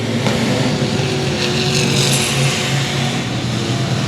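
Race cars roar around the 281 Speedway oval on the final lap. A continuous, loud, blended engine drone holds steady throughout with no pauses.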